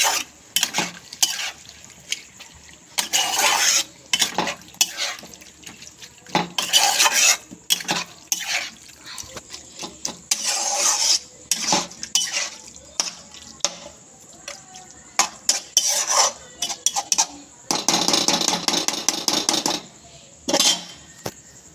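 Chicken pieces and chicken skin stir-fried in oil, with repeated scraping and clattering of a utensil against the pan in irregular bursts over a soft sizzle, close and fairly loud, no talking.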